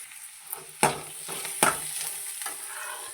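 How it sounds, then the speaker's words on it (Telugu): Ivy gourd (tindora) frying in a pan gives a steady sizzle, broken by two sharp scraping clatters of stirring and a few softer ones. It sounds close, with no talking. "ఇలా బాగా ఫ్రై చేసుకోవాలి చూడండి ఇలా ఫ్రై చేసుకోవాలి"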